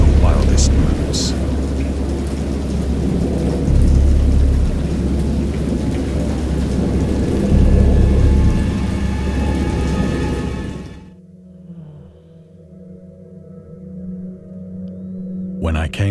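Thunderstorm with heavy rain in the Lovecraftian video game Dagon: a loud, dense downpour with rolling thunder rumbles that stops abruptly, leaving a quiet low drone.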